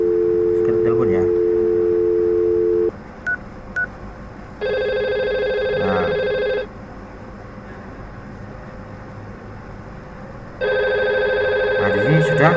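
IP phones in a Cisco Packet Tracer network simulation produce loud, synthetic tone bursts: a short low tone, then two brief beeps, then two long ringing stretches separated by a pause, with faint talk underneath.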